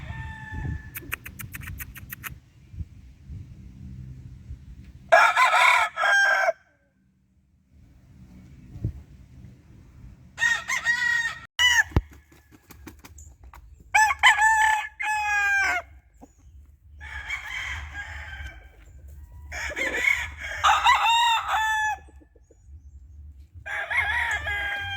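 Gamefowl roosters of several crosses crow repeatedly on a farm, loud drawn-out calls close by with pauses between them, over a low rumbling background and some clucking.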